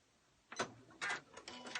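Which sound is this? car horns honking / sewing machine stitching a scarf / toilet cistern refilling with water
sewing machine stitching a scarf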